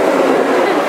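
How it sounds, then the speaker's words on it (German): Subway train ride with a steady, loud rumble of the moving U-Bahn car running continuously through the short moment, no distinct clacks standing out. "Geil, wir fahren jetzt mit der U-Bahn."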